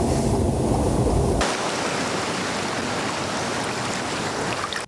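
Floodwater pours into a street manhole that struggles to take it during a flood, a steady loud rushing wash of water with no voices.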